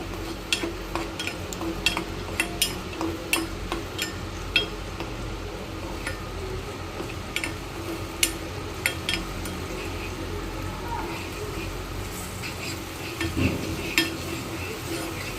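Crushed garlic sautéing in a pan for an Indian-style tadka on Italian sauce, a soft continuous sizzle with frequent light clicks and taps of a stirring spoon, quiet and close, without voices.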